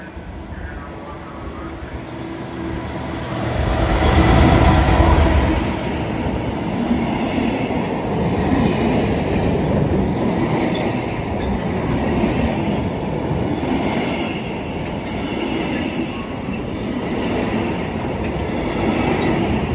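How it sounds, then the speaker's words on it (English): A Class 66 diesel locomotive pulls a train past in London, rumbling loud and close. The sound swells into a heavy roar, then settles into a steady, continuous rolling clatter of wheels that lasts to the end. "Look folks, here comes the class 66."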